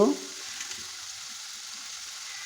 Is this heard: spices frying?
yes